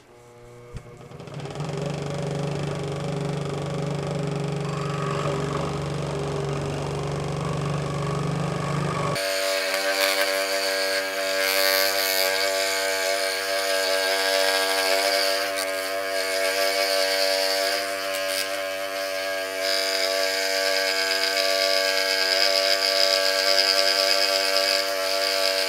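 A scroll saw cuts a plastic impeller part from a Troy Bilt 24-inch snowblower, its motor whirring for a few seconds before the blade bites in with a loud, steady rattling buzz that continues unbroken to the end.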